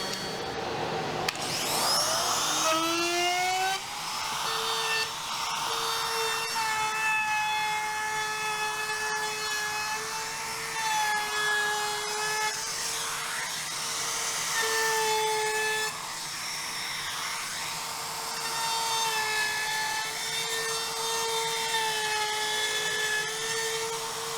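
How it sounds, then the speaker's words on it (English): A woodworking router fitted with a 1/4 inch round-over bit shapes the top ends of wood boards, a loud continuous high whine that rises and dips in pitch as it cuts. "I'm going to router them with a 1/4 inch round over bit on the top end only"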